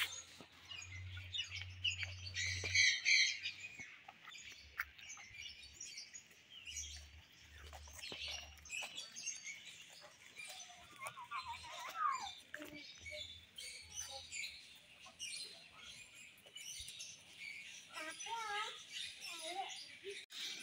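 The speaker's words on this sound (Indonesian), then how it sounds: "Ini di background ada suara-suara burung." Birds chirp and tweet in the background outdoors under a blue sky, scattered short faint calls coming and going across the recording, with a voice talking at times.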